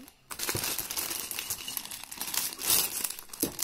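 Plastic bags from a Lego Super Mario set being handled, close crinkling and rustling with sharper crackles, steady and continuous without talk.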